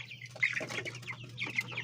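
Broiler chickens in a farm pen cluck and chirp in quick irregular bursts, several birds overlapping at close range over a faint steady hum, with no voices.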